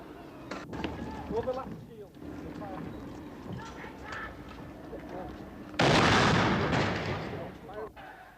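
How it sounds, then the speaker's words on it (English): Army rubber-bullet fire during street rioting after a Protestant march: sharp distant gunshot-like cracks ring out amid crowd noise and a narrator's voice, and a loud burst of broadband roar follows partway through. "the Army were firing their rubber bullets"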